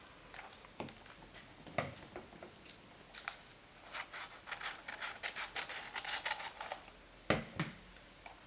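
Scissors cut tracing paper while making a festive paper lantern: quiet, close snips and rustles, scattered at first, then a quick run of short crisp cuts, followed by a couple of sharper snips.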